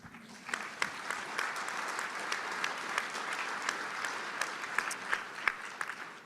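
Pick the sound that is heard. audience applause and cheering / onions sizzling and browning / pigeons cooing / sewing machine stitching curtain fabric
audience applause and cheering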